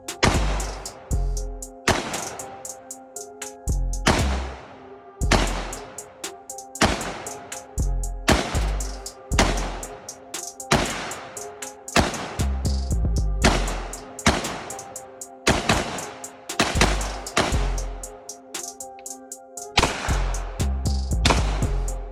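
Repeated loud rifle shots from a VZ58, an AK-variant rifle, fired at pumpkins outdoors, each sharp crack spaced a second or two apart over a steady stretch of shooting.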